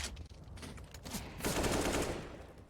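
Rapid headshot gunfire in a Counter-Strike match, a string of sharp shots followed by a louder, sustained burst of fire near the middle and end.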